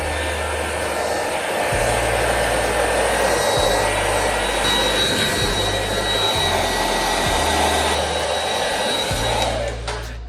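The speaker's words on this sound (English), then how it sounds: "use the hair dryer where you are twisting" A handheld hair dryer blows a steady, loud airflow close by throughout, used while twisting sections of hair into beach waves with the fingers; the motor whine holds constant with slight pitch shifts and no talk.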